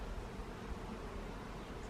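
A low, continuous hum of honeybees buzzing nearby at a hive, fairly faint and steady throughout.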